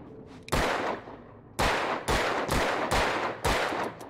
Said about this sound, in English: I tried to shoot the plating thing above it